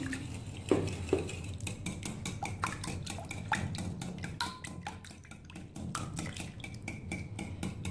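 Eggs mixed with salt and spices in a bowl, with a steady clinking and scraping of utensil against the bowl that runs throughout the clip at close range and without speech.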